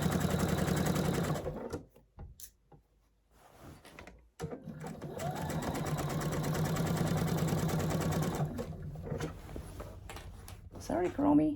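A sewing machine stitches down a seam on a handmade project, bursts of rapid close needle chatter that stop and restart, with a long steady run in the middle and brief pauses between.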